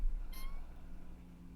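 A person imitates a cat, giving one short, high meow that rises and then fades, sounding close and fairly loud over a low background hum.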